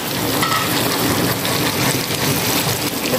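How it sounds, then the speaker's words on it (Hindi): Chicken karahi masala frying in a pan, a steady, dense sizzle and crackle that continues without a break, close and fairly loud. "इसको और भूनेंगे, वो ग्रेवी भी ऐड कर दूँगी इसमें यहाँ पर।"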